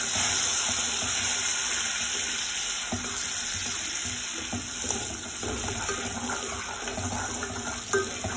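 Sugar stirred into popcorn cooking in oil and butter in a pot, with a dense steady sizzle and faint scraping of the spoon, occasional small knocks and no talk.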